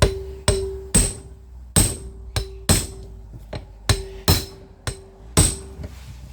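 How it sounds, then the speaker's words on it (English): An impact driver hammers on a socket during brake work, about eleven sharp, loud metallic strikes in an uneven rhythm with short ringing decays, close up and with no talk. "we're just maybe try and hit it with this impact driver again."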